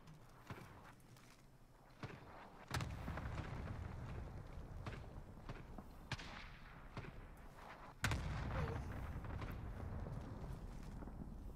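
Gunfire in a first-person shooter video game, a weapon with heavy recoil firing sharp, loud reports in irregular bursts over rumbling battle background, with two especially strong blasts standing out.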